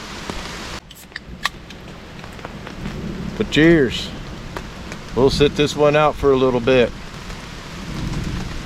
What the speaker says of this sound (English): Now we have another thunderstorm rolling through.